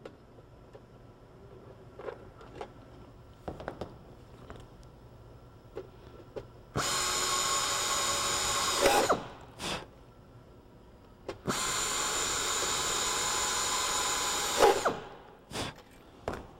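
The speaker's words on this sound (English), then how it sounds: "I can now drill the hinge to skin attach holes" A power drill whines in two long bursts of a couple of seconds each, drilling hinge attach holes in an aircraft door skin, close and loud, with quiet clicks and handling noises between them.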